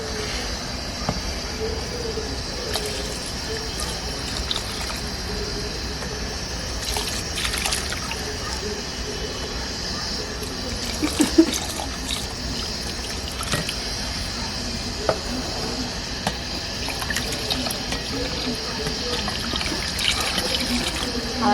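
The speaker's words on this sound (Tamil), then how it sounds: "அந்த தண்ணியை இதில் மிக்ஸ் பண்ணி ஊற்றிக்கணும்" Water pours steadily into a cooking pot for mutton biryani, a continuous splashing hiss running throughout with a few clinks and bumps along the way.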